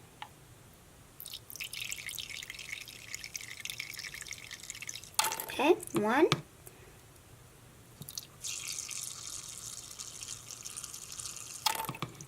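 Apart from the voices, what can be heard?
contact solution being poured for slime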